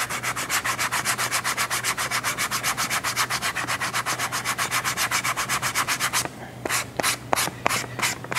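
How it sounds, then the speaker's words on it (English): Rapid rhythmic back-and-forth sanding of the glued edges of a leather tri-fold wallet, close and loud, a fast steady scrubbing that slows into a few separate strokes near the end. "Now I'm going to just gently take off these clips, make sure it doesn't separate, and just give it a good sanding."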